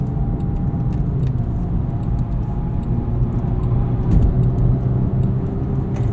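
A 2021 Jaguar XF P300 R-Dynamic AWD in dynamic mode climbing an entrance ramp, heard from inside as a steady, loud engine and road rumble with a slight swell partway through and faint ticking rattles.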